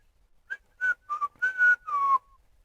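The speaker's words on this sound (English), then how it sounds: "Whistling Dixie?" A person whistles a short melodic tune alone, six clear bright notes in quick succession with a slight downward bend on the last, close and fairly loud against quiet.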